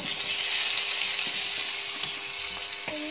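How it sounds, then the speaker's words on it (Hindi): Boiled potatoes tumble into hot oil with crackling cumin seeds, giving a loud, steady close-up sizzle and frying hiss with faint stirring clicks near the end. "जीरे को गर्म होने देंगे, तड़कने देंगे जीरे को थोड़ा, और इसके अंदर हम डाल देंगे आलू"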